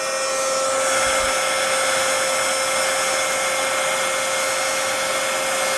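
A heat tool blows hot air onto embossing powder on a Christmas wreath card, a loud, steady whirring hiss with a faint tonal whine that runs unbroken throughout, with no talk.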